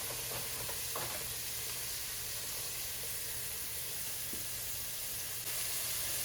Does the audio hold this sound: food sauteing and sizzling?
yes